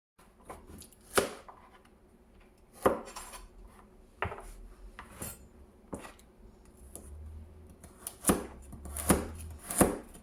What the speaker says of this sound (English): I'm going to cut the radish and the carrots and slice them into strips